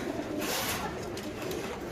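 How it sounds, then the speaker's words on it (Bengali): Pigeons coo steadily at a pigeon farm where birds are kept for sale, a soft continuous murmur of many birds at close range with no talk over it. "এটা নতুন কবুতর"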